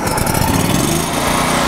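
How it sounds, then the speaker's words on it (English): A Lincoln Trailblazer 325 EFI engine-drive welder's gasoline engine runs loud and close, giving a dense, steady mechanical roar with a fast pulsing texture and no voices over it. "Start it up. Engine goes to 3200 RPM."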